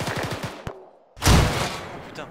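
Gunfire in the military shooter Arma 3, a quick burst of shots, then a short silence and a loud blast-like crack that rumbles on, with a voice speaking over it.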